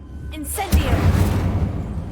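A fire spell cast in Hogwarts Legacy, a sharp whoosh and burst that settles into a low, steady crackling roar lasting a couple of seconds, close and fairly loud.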